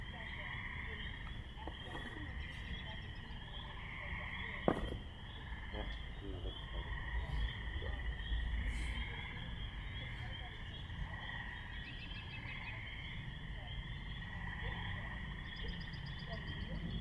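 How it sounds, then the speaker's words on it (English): A steady spring chorus of frogs croaking and trilling at an RV park pond fills the background, constant and layered, with faint rustling and a soft voice underneath. "You can hear behind us the frogs are singing away."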